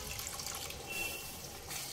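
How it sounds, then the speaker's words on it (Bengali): Hot water poured into a pan of oil-separated fried masala while making Kolkata-style bhetki fish biryani, a steady splashing pour lasting about two seconds at moderate level, with no voices. "দিয়ে দেব অল্প একটু গরম জল"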